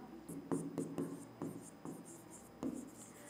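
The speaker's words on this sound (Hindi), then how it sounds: "अब सूत्र लिखने की बारी आई" Chalk or marker tapping and scraping across a classroom board while a formula for a flowering plant is written out, a series of faint, spaced strokes and ticks over a quiet room.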